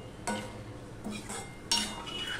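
Spice paste with chilli powder and vegetables being sautéed for a thin Bata fish curry, a spoon scraping and clinking against the pan in a few brief strokes over a low, steady background.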